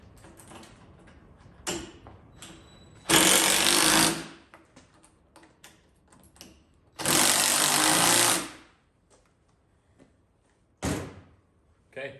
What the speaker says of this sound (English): I'm gonna go ahead and take a screwdriver and a 7/16 socket. I'm gonna tighten those up.